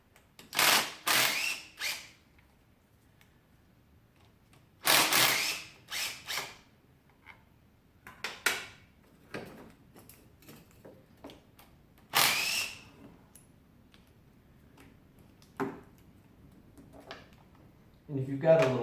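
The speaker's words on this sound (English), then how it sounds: "if you've got a little small impact drill like this, it really does come in handy pulling these out" A small impact drill loosens the T30 cover bolts on a Volvo engine during PCV replacement, in several short whirring bursts separated by quiet pauses, close by, with faint workshop clatter.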